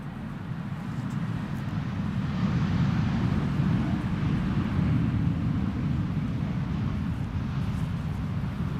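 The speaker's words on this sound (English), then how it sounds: "Wolfgang says A340-600 overhead" An Airbus A340-600 passes overhead at Amsterdam Schiphol Airport on a crosswind December day, its deep, steady jet roar swelling slightly and holding loud throughout with no voices.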